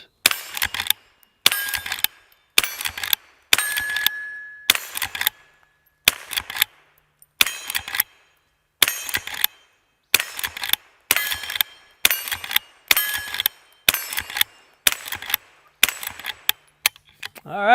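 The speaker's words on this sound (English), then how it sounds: "If you were counting, that was 15 rounds of .22 long rifle" A Henry H001 Classic lever-action rifle fires .22 Long Rifle rounds, about fifteen sharp, loud shots spaced roughly a second apart, with a brief metallic clack between them from cycling the action. No one speaks.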